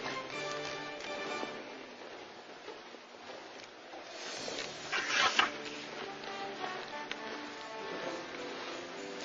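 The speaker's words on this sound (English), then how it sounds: "Now I'm vacuuming up the solution along the edges." A wet vacuum sucks up floor stripper solution along floor edges, a steady close whirring hiss with gurgling slurps and a brief louder surge midway, no voices.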